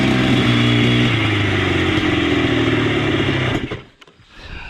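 An abandoned ATV engine runs rough, a loud, steady buzzing idle with uneven, clattering firing that holds close for several seconds before sputtering and dipping, then picking back up.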